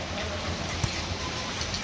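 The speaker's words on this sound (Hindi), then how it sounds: "बहुत ही तेज बारिश आने लग गई वापस से।" Heavy rain falls steadily in a broad, even hiss with scattered drops striking nearby surfaces, heard alone and fairly faint.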